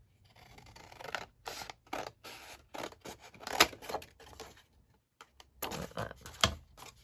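Scissors cut folded paper up close for a folio, with a quick series of crisp, papery snips in an uneven rhythm and a brief pause before the last few cuts.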